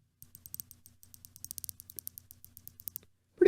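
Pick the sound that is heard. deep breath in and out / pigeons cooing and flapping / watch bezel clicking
watch bezel clicking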